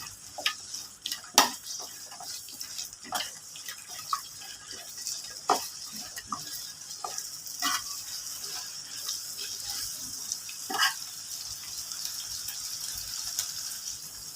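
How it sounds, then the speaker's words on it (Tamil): Onions being sautéed until golden brown for Bangalore-style chicken biryani, with a low steady sizzle and scattered spatula scrapes and clinks against the pan, close up, no talking. "நல்லா கோல்டன் கலர் ப்ரௌன் வர வரைக்கும் நல்லா வதக்கிக்கலாம்"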